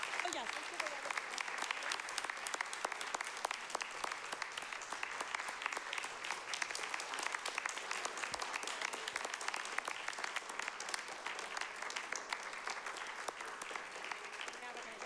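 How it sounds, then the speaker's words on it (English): A school committee meeting audience gives a round of applause, dense steady clapping from many hands, fairly quiet and distant, continuing for about fifteen seconds with faint voices mixed in. "let's give a round of applause"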